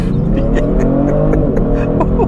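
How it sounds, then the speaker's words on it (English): A 2022 Genesis G70 in Sport Plus mode holds a steady, loud engine drone during a brake-boosted launch, a dense harmonic growl with slight pitch wavering and faint clicks on top, continuous from start to finish. "When I put it back into a Sport Plus mode, let's brake boost it here."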